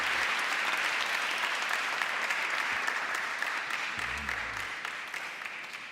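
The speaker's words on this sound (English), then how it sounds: "let's give them another round of applause" Sustained, steady applause from a large conference audience fills the hall for commission members, dense and even, tapering slightly toward the end.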